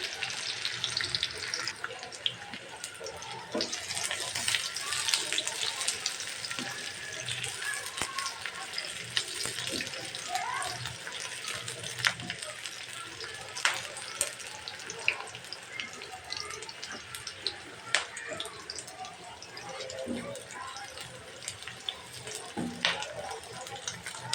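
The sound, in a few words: chopped onions and cinnamon added to very hot oil, sizzling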